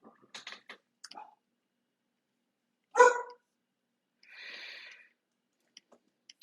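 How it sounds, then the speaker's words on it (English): A dog barks in a few sharp, separate bursts nearby in an otherwise quiet indoor room, with faint clicks and a soft rustle between the barks. "Sorry about the barky dog."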